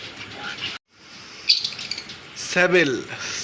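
Lutino Fischer's red-eye lovebirds in a bird shop give sharp chirps and a harsh squawk up close, mixed with other cage noise and brief speech.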